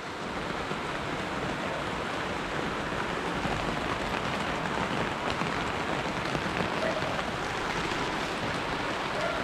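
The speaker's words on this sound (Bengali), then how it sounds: "এই যে বৃষ্টি শুরু হয়ে গেছে" Rain pours down outdoors in a steady, even patter of drops striking surfaces, constant and fairly loud with no voices.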